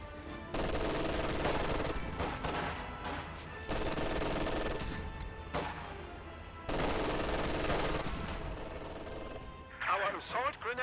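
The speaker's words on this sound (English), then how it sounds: "that Maxim should force a retreat from that Grenadier squad" A Maxim machine gun fires in a World War II strategy video game, its loud sustained bursts repeating in long runs with short gaps between them, and a voice speaks briefly near the end.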